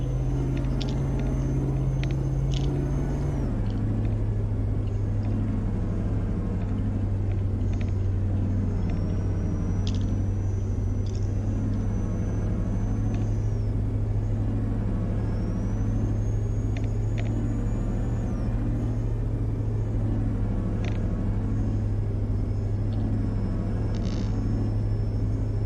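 A steady, loud vehicle engine drones from inside a car in Euro Truck Simulator 2, shifting to a lower pitch early on, with occasional faint clicks and chirps over the continuous rumble.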